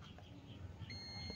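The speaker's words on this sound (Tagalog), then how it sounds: "Buzzer test natin yung capacitor mismo." A multimeter's continuity buzzer checks a capacitor inside a Sanyo CRT television that has no power. A steady, high electronic beep starts partway through and holds over faint background noise.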